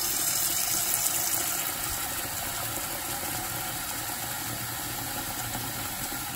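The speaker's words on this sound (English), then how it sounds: "I'm gonna go ahead and fill up my pot of water and start boiling the eggs" A pot being filled with water from a kitchen tap for boiling eggs, a steady rushing gush of running water that continues unbroken and fairly loud throughout.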